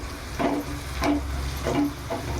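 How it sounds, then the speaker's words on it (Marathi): Asafoetida sautés in hot oil for a spicy brinjal and potato curry, a soft steady sizzle broken by a few rhythmic spoon strokes roughly every half second, close and moderately loud. "त्यामध्ये ही हिंग टाकायची. चांगलं परतून घ्यायचं."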